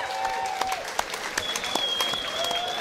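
Crowd applause for two boxers at a boxing-with-MMA fight night, a steady dense clapping wash with a few sharper claps standing out and faint whistles or tones over it.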